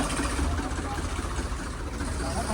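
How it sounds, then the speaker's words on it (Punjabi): A tractor engine idles steadily close by at a village flood-relief site, a continuous low rumble under busy outdoor noise and voices. "ਪਿੱਛੇ ਟਰੈਕਟਰ ਹੈ"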